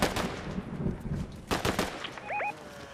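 Bursts of gunfire in Fortnite, sharp shots cracking in quick clusters near and loud, followed by a brief rising electronic game tone.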